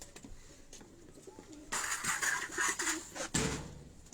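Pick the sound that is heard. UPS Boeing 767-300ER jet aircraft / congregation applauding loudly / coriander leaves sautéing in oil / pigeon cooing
pigeon cooing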